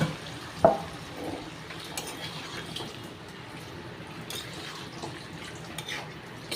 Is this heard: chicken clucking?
no